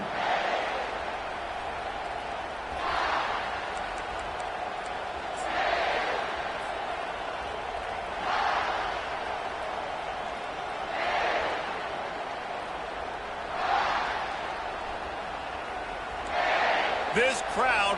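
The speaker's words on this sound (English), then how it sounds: "This crowd bringing an ear-splitting welcome to their visitors." Football stadium crowd at an Ole Miss versus South Carolina game, a continuous roar that swells in rhythmic surges every few seconds beneath a commentator's talk.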